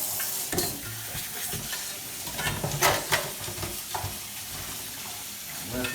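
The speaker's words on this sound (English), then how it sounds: "Okay, now we're gonna rinse it" Sea moss is rinsed off under running water to wash away sand and grit, with a steady rushing hiss broken by scattered splashes and handling sounds.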